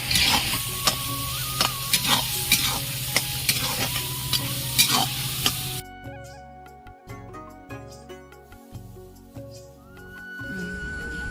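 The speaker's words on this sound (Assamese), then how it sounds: "মাংসখিনি ভাজি তেল বিৰিঙি অহাত মই বটি লোৱা আদা, নহৰু আৰু জিৰাখিনি দি দিলোঁ।" Local chicken frying in hot oil with ginger, garlic and cumin, a loud continuous sizzle with stirring scrapes for about half the time, then cutting to quieter cooking with faint clinks and a brief tonal sound.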